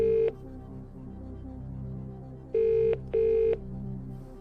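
A telephone rings for the phone-a-friend lifeline on the Who Wants to Be a Millionaire game show, three short electronic ring bursts, the last two in quick succession, over a low tense musical drone.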